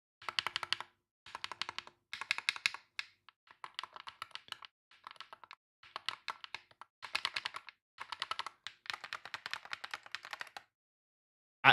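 Quick bursts of typing on a Wooting 60HE+ keyboard fitted with new, unlubed keycaps, close and crisp clacking in short runs separated by brief pauses, with no voices.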